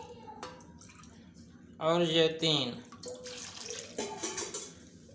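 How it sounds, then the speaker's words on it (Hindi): Water splashes into a pot for chicken pulao in a short, loud pour of about a second, with quieter trickling after it and someone speaking before and after. "हम 3 बोल पानी के डालेंगे"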